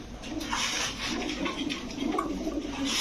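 Pigeons coo softly and steadily in a crowded pigeon shop, their low murmuring calls blending into a continuous bed of chatter with faint rustling and background noise.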